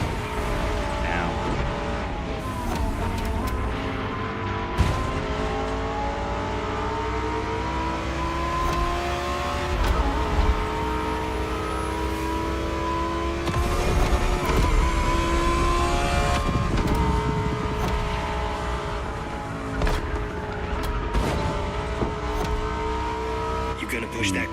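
Car engine revving hard at speed in The Crew Motorfest racing game, a loud steady roar with rising and falling pitch sweeps and sharp gear shifts across the whole stretch, with a voice talking over it.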